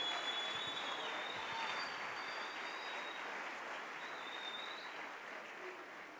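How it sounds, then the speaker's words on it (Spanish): A church congregation bursts into sustained applause during a Spanish-language worship service, steady clapping from a crowd heard at a moderate distance and slowly fading. "Dale un aplauso al Rey bendito."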